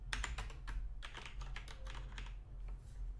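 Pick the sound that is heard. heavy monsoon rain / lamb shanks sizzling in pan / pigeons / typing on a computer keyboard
typing on a computer keyboard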